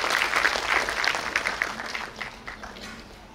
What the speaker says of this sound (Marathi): आपण जोरदार टाळ्या वाजवून मॅडमचं स्वागत करूया